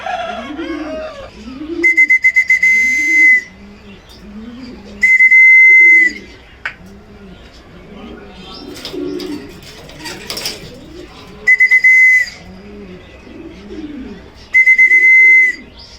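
A shrill whistle blown in four long, loud blasts with pauses between to call racing pigeons, while pigeons coo softly and steadily in the background.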